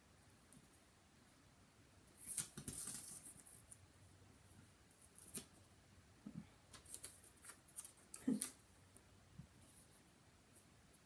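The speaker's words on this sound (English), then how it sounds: "So I just make a little triangular cut at the beginning." Scissors make a small triangular cut while building a paper album base, giving a few quiet, close snips and paper rustles against a hushed background.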